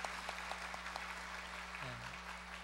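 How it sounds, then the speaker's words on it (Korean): A church congregation claps in welcome, a soft, distant patter of hands over a steady low hum, with a brief sliding tone near the end. "환영의 박수 부탁드립니다."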